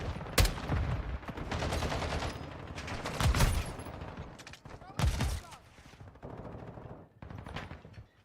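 Gunfire in the game Modern Warfare 2, several loud single shots and short bursts spread across the stretch, with clicking weapon handling between them and faint game noise underneath.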